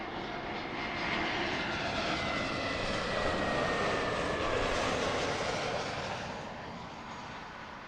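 Lufthansa airliner in a special livery passing at Heathrow Airport, a loud, broad jet engine roar that swells in the middle and then fades slightly, heard alone.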